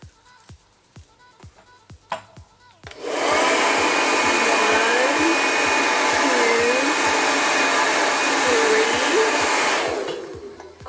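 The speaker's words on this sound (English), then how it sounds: "So then I'm gonna go blow dry it this way." A hair dryer blow-drying short pixie hair roars on steadily and loudly for several seconds, its airflow wavering slightly before it cuts off, preceded by a few soft handling taps.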